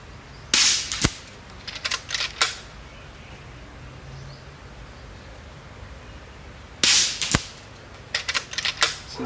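Uragan 2 airsoft rifle fitted with an AAO 2023 upgrade kit, firing two clusters of sharp, snappy shots a few seconds apart, each a quick burst of three or four cracks over a quiet background.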